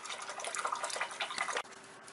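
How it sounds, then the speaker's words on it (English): An acrylic paint brush is swished and rinsed in a container of water, giving close, fluttering splashes and sloshing for about a second and a half, then a brief knock and quieter dripping. "just add a touch of white to that and wash our brush"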